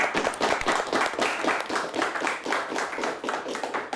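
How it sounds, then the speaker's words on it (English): Audience applause for a high school quiz team on a televised quiz show, a steady patter of many hands clapping at moderate loudness that continues evenly throughout without talk. "Give them a nice round of applause."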